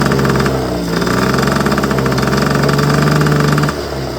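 A small two-stroke engine on a 1997 Yamaha PW50 shaft-drive dirt bike revs loudly and holds high, buzzing and crackling, then drops back toward idle at the end.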